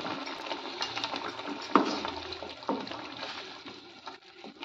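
Spoon scraping and clinking through spices in a cooking pan while beans and potatoes fry, a steady close scrape with a few sharper knocks, no voices.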